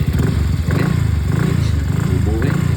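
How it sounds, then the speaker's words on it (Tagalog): Motorcycle engine idling after repair, a close, rhythmic low chugging with steady even pulses, with some voice or background sound mixed in. "stable siya during idle yung motor"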